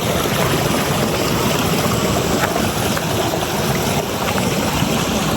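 Long, clear river flowing in a constant loud rush of water, close and steady throughout with no talking.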